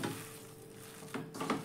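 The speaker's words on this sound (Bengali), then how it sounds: "এবার খুব ভালো করে সব কিছু একটু হাত দিয়ে আমি মেখে নেব" Puffed rice and lentil mixture kneaded by hand without water, a soft, faint, steady rustling and squishing close by, with slightly louder pressing bursts near the end and no voices.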